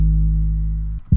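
A plain 808 bass holds one deep, clean sustained note with smooth harmonics for about a second before cutting off, followed by the start of another low hit.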